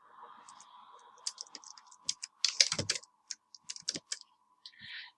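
Someone types a short name on a computer keyboard, giving a quick run of close, crisp key clicks in irregular bursts over a faint background hum.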